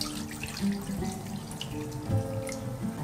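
Water runs and splashes into a pan of carrots, filling it partway, a close, fairly soft trickle with small bubbling, slurping spurts throughout.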